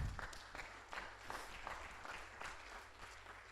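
Audience at a residents' council quarterly meeting applauds; soft, fairly distant clapping of a modest group, steady for a few seconds with no speech.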